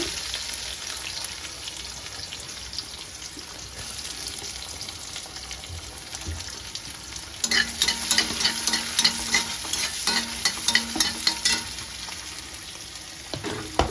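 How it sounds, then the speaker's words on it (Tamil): Mustard seeds and onions fry in hot oil in a pan, sizzling steadily and close, with the sizzle growing louder and more crackly partway through as the mixture is stirred. "இப்போ கடுகு போட்டுக்கலாம் ஒரு மூணு வெங்காயம் போட்டுக்கிறேங்க"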